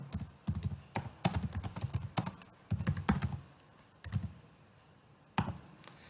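Rapid bursts of typing on a computer keyboard, close and fairly loud, with irregular clusters of keystrokes and short pauses between them, no talking.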